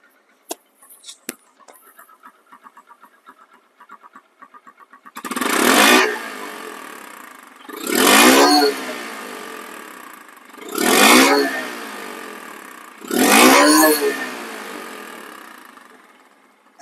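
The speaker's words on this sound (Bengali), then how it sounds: "গাড়িটা আগে স্টার্ট করেছি।" A 2024 motorcycle engine fires up and idles with a light ticking, then gives four strong revving bursts, each rising and falling, loud and close.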